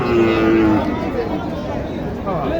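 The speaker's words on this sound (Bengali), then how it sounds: "দর্শক, গরু যে ভয় করতেছে।" A frightened Sahiwal bull at a crowded cattle market gives a single loud, drawn-out moo up close, with market bustle and murmuring voices behind it.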